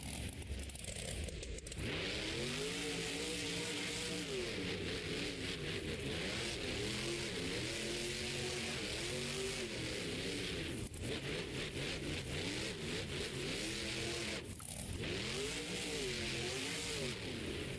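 Gravedigger monster truck engine at a Monster Jam arena event, loud and continuous, revving up and down in repeated surging waves for the whole stretch with brief dips between runs.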